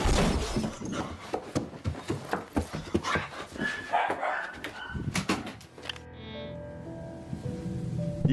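Several dogs bark and yelp in rapid, overlapping bursts, fairly close, followed by a quieter stretch with a lingering whine.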